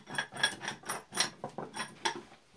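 A part being screwed onto an old restored bench vise, a rhythmic series of close metallic rasping turns, each a short grinding stroke repeated about eight times.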